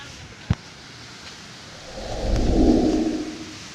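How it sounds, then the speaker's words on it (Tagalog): A strong typhoon wind gusts through an outdoor garden, swelling into a loud broadband roar midway that holds for over a second before easing slightly, after a sharp click near the start. "Ang lakas ng hangin, ang lamig."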